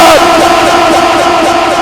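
A large crowd at a Milad gathering chants a religious slogan in unison, a loud, sustained, wavering roar of many voices close by.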